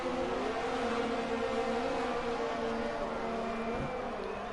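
Formula 1 cars leaving the pit lane in a racing video game at the Austrian round, a steady droning engine note holding throughout with shifting pitch, no talk.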